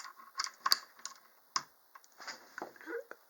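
Keycaps being pulled off a Red Dragon K552 mechanical keyboard, heard as a handful of sharp, close plastic clicks and snaps with small rattles in between, spread unevenly across a few seconds.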